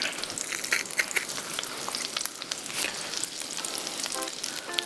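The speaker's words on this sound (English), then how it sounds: "let's crush some of that garlic in that butter" Garlic crushed into butter in a hot pan sets off a continuous bright sizzle with crackles and pops, punctuated by a few scraping and pressing sounds close by.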